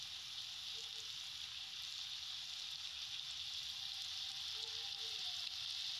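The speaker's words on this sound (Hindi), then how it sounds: "मैंने फ्राइंग पैन में थोड़ा सा ऑयल डाल लिया है, तकरीबन 2-3 टेबलस्पून के बराबर, और अब इसमें मैं कबाब रख रही हूँ" Beef seekh kababs frying in two to three tablespoons of oil in a frying pan over high heat give a steady, close, even hiss of sizzling that holds without pause throughout.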